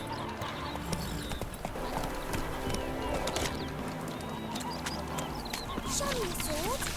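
Roach the horse gallops through a Witcher 3 game world, a continuous rhythmic clip-clop of hooves under ambient game sound with occasional bird calls, at a steady mid level.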